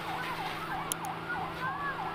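A fire engine siren wails in a repeating rising and falling pattern at a steady moderate level over a low hum, at the scene of a fire at an Indonesian primary school, SDN 149 Tebo.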